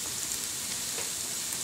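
Potatoes and onions fry in a pan with a soft, even sizzle that holds steady throughout, like light rain. It is fairly faint and has no other sounds over it.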